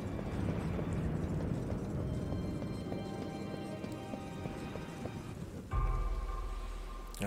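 Rain in the video game Darksiders, a steady close hiss of falling water with rhythmic clopping steps, then a sudden low shift near the end.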